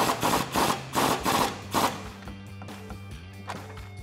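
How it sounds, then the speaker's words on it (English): A socket ratchet with a swivel extension tightening a 16 mm sway bar end link nut during a leveling kit install on a 2009-2021 Ram 1500, giving rhythmic rapid clicking bursts up close that slow to a few separate clicks. "Grab your socket set, grab your 16 socket and tighten that down."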